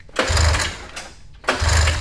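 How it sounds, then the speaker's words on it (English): A 440cc snowmobile engine fitted to a go-kart is cranked in two quick pull-start strokes, each a short, close mechanical churn with low thumping that fails to catch. "So, I guess we'll try cranking it up in here."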